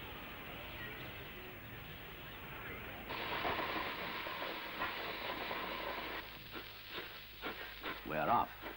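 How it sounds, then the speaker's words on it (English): Faint hissing and low rumbling swell as a Trans-Siberian Railway train starts moving in the 1960s, with rhythmic chuffing and clanks of a steam engine pulling away from the next platform growing in the background. "As we begin to move, a steam engine pulls away from the next platform"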